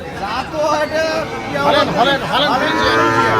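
Holstein Friesian cattle moo loudly at a cattle market in Ambari Hat, Dinajpur, with a couple of drawn-out calls close by, while market chatter and voices carry underneath.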